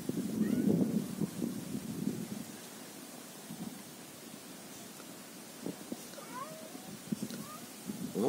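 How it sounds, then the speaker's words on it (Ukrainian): A cat outdoors in a rural yard yowls loudly in a drawn-out cry near the start, followed by quieter scattered meows and small rustles over a soft background hiss. "А що ти кричиш, як дикий кіт?"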